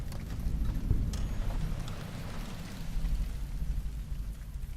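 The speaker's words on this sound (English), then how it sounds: "It's raining." Steady rain pours down in Fallout: New Vegas, a dense low wash of falling water with scattered drips, continuous and fairly close, no voices.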